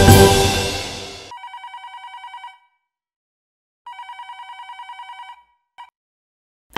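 A telephone bell rings in rapid trilling bursts, two longer rings separated by silence and then a brief third, after a loud opening burst of other sound.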